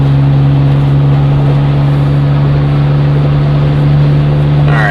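Jeep Wrangler JK fitted with an MRT JK2 cat-back exhaust, driven under heavy load at wide open throttle around 3,000 RPM, producing a loud, steady, droning low exhaust hum with no talking.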